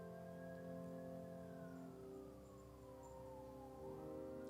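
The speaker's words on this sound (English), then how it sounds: "I hear sirens of an ambulance going by" A faint siren tone holds steady, then slides slowly downward as it passes at a distance, under a low hum of background noise.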